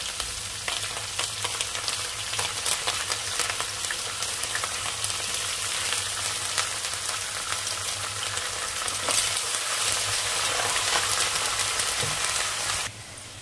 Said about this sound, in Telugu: ఇవి కొంచెం వేగిపోయాక పచ్చిమిర్చి అల్లం వేసుకుందాం కొంచెం ఎండుమిర్చి